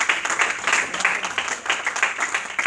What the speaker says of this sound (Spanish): ¿Cuánto dar ese aplauso a la gloria de Dios?